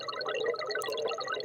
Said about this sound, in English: Now I'm also going to add a noise oscillator.